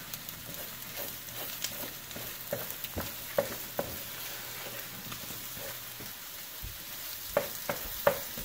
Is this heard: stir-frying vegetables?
yes